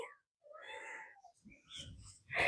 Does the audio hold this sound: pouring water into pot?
no